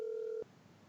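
A single phone dial tone, steady and close, plays for a moment and then cuts off abruptly into near silence.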